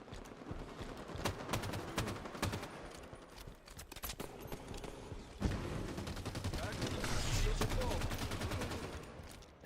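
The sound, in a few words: carbine gunfire in a video game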